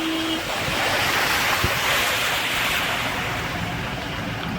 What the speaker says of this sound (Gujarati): છે એકદમ પાણીનો ફોલ ફોર્સ છે